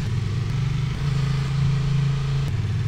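Honda Transalp XL750 motorcycle riding in Malaysia, its engine droning steadily and loudly with a sustained low tone and wind noise throughout.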